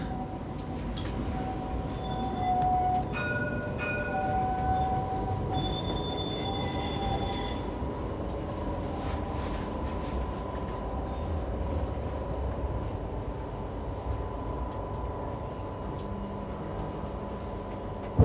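High-pitched metallic squeals from tram wheels on a Sydney tram cut in and out over a low rumbling ride, shrill tones rising and fading as the car rounds a curve.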